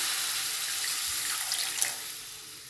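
Water poured steadily into a pan of pumpkin and potatoes, a soft continuous splashing hiss with a few small gurgles toward the end, fairly quiet and alone.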